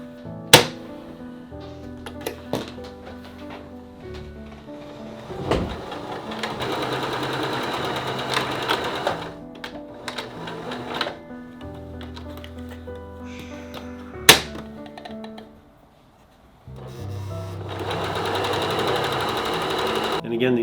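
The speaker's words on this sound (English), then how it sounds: "you're ready to sew all the edges except for one" A sewing machine stitches the edges of a fabric face mask in several loud, close runs of rapid whirring, separated by pauses with clicks and handling noises.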